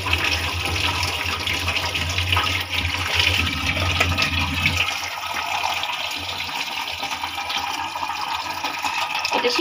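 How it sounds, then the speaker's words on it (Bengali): Eggs being washed under a running kitchen tap, a steady stream of water splashing and gurgling for several seconds, fairly close, with the flow changing character partway through as hands move the eggs. "সেজন্য আমি ডিমটাকে সবসময় ধুয়ে সিদ্ধ দিই"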